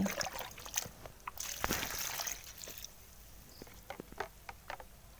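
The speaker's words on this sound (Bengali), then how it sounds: "আর এবারে কিন্তু দেখো জল দিয়ে দিচ্ছি" Water poured from a container onto the soil around a freshly planted seedling in a homemade grow bag, giving a brief close splash and trickle, then scattered soft drips and patters.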